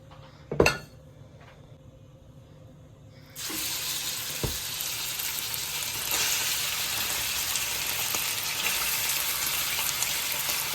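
Chicken pieces for Filipino chicken kaldereta drop into hot olive oil in a wok and set off a loud, steady sizzle that holds to the end, after a sharp clatter and a few quiet kitchen sounds.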